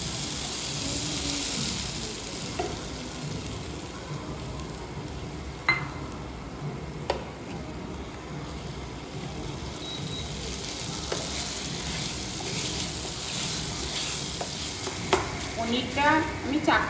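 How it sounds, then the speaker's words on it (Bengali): Paneer frying and being stirred in a hot pan with spices, a continuous sizzle close up, spatula scrapes and a few sharp clinks against the pan, no talking. "এবার পনিরটা দিয়ে দেবো।"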